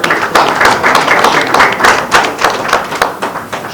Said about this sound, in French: je vous prie d'applaudir et d'accueillir bien fort Mouska.